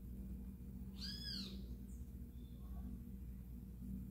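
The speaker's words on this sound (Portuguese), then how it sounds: "Esse canto aí é um que parece Bentivi, mas não é o Bentivi" A small songbird outdoors in the hills of Monte Verde, Minas Gerais, gives a single short, bright whistled call resembling a great kiskadee, faint and distant over a low steady rumble, with a couple of weaker chirps after.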